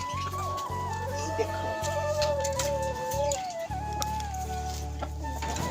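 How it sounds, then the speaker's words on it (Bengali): Chickens cluck steadily nearby under a continuous low hum, with a person talking over them. "আমাদের মুরগিগুলো দেখতে পাচ্ছ এখানে রয়েছে"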